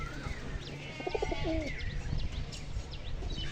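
Pigeons coo softly in low, throaty bursts, with light chirps from other birds in the background.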